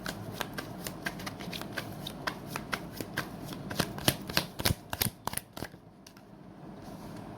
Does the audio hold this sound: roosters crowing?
no